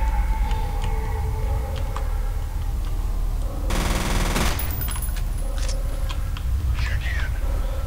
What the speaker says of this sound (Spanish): ¿De cuándo tengo la ametralladora?